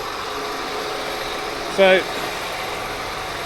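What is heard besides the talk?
John Deere 8 Series tractor engine running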